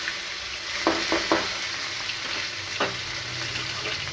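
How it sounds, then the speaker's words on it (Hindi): Chopped garlic, tomatoes and onions fry in a pan with a steady, close sizzle, punctuated by a few sharp scraping stirs of a utensil against the pan. "उसके बाद हम इसमें टमाटर और प्याज को डाल देंगे"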